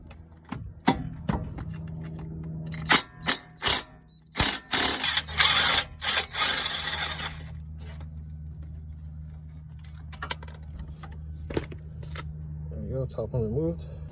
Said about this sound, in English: now we're gonna remove 2 17mm bolts in the back